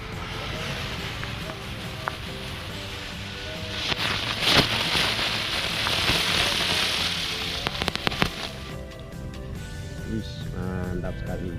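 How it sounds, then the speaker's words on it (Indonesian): A jumbo spinning-wheel firecracker (gangsing) burns with a dense, steady crackling hiss and scattered sharp pops, loud and close, while a voice talks faintly underneath. "Ini petasan gangsing jumbo teman-teman, roda gila."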